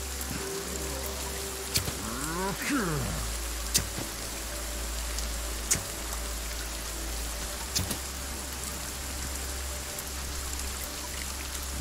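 Rain falls steadily in the forest of the game Sons of the Forest, an even hiss with occasional sharper drips and thuds, plus a faint chirping call near the start, and no talking.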